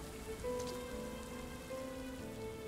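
Steady rain falls in the video game RiME, a dense even patter with faint tonal game music underneath, heard alone without talk.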